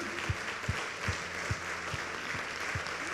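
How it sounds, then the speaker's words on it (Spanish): A church congregation applauds during a Sunday morning service, soft clapping with a steady rhythmic beat of low thumps repeating about every half second, heard at some distance. "Le damos un fuerte aplauso al Señor"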